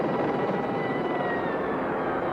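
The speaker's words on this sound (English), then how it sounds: "Hey, there's a military chopper." A Bell military helicopter flying overhead gives a continuous, loud, dense rotor and engine roar throughout.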